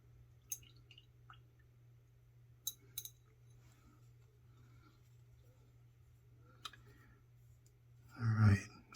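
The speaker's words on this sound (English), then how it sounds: "Gotta wash off my brush here." A paint brush swished and tapped in a water cup while painting, with a few faint clicks and drips on a quiet background and a short, louder splashy rinse near the end.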